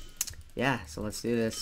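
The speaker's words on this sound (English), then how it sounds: "probably my keyboard sounds" Computer keyboard keys click in short bursts during a gaming session while a person talks over the typing.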